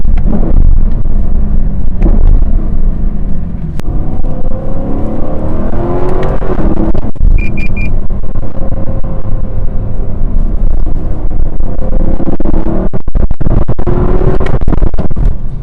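A 2025 Lexus LC 500 with a naturally aspirated engine accelerates hard, heard from inside the cabin as a loud, continuous engine roar that climbs in pitch through the gears, with brief shift breaks.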